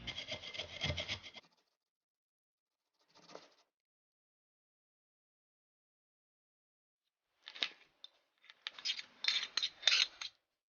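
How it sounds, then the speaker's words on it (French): Raw carrot and potato rubbed against a kitchen grater, giving rough scraping bursts: a long stretch at the start, a brief stroke, then a cluster of harsher rasping strokes near the end, separated by silence. "Il a tout simplement suffi de râper ceci comme on va le voir là et de mélanger avec la carotte"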